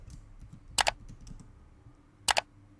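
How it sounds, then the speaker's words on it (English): Keys tapped on a Mac computer keyboard in two quick bursts of a couple of clicks each, with light softer taps in between, close and fairly quiet with no talking. "Type in yes. Again, type in yes. Enter the password for your Mac."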